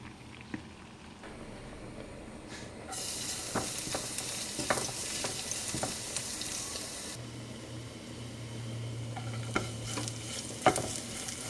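Garlic sizzles in hot cooking oil in a pan for tortang talong with ground meat. The garlic is burning. A steady frying hiss runs throughout with scattered stirring clicks and scrapes, and it gets louder and brighter partway through.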